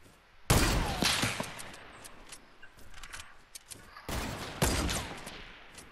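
Sniper rifle fire in Fortnite cracks out in two loud, close blasts a few seconds apart, each followed by a trailing echo, with softer game sounds in between.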